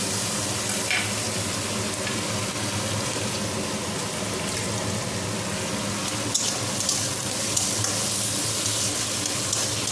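Half-fried ingredients sizzle in a pan after chopped tomato goes in, a dense continuous crackling hiss heard up close, steady and alone with faint stirring touches.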